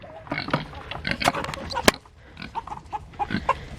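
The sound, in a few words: pig being loud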